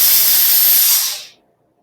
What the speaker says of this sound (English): we're going to press, and I'm going to give it mostly steam